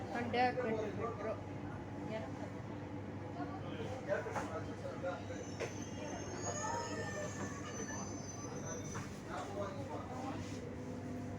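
A Chennai Metro train runs along its track toward a ramp near Tondiarpet, with a steady rolling rumble and high wheel squeals that rise midway, all under a voice.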